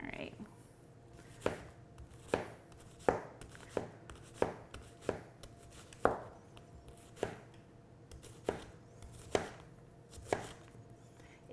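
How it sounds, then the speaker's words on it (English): A knife rough-chops a white onion on a board, about a dozen crisp, close knocks at an uneven, unhurried pace over quiet background. "And then we're just going to do a rough chop of our onion."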